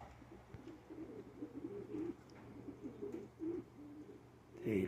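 Moro pigeons coo softly in a low, rolling rhythm while feeding on carrots and ginger outdoors, a faint continuous murmur of calls with a brief louder rustle at the end.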